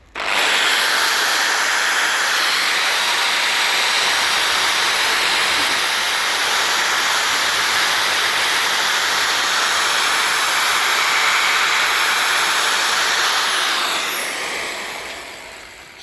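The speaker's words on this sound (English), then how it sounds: "just lightly holding it and running it across the surface, and you can see that it takes the rust off very quickly" A power tool strips rust from an Alfa GTV drive shaft in one long, loud, continuous whirring grind held for about fourteen seconds before it winds down.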